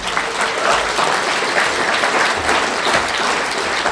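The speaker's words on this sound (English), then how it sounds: "I hope you know you're clapping for Alcoholics Anonymous" A large audience at a Soberfest recovery meeting bursts into dense, steady clapping, loud and close throughout the short stretch.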